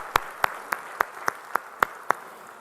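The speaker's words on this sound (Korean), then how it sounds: "우리 선교사님들께 또 하나님께 영광의 박수" A few sharp, evenly spaced claps ring out at a Sunday church service, roughly eight distinct hand claps in a steady rhythm, fairly close against a quiet room.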